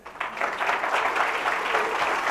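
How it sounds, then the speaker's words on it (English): Audience applause during a 2012 Republican gubernatorial debate: an indoor crowd breaks into brisk clapping that quickly swells and holds steady for a couple of seconds. "if we could hold the applause in between, that would get us moving a little bit faster"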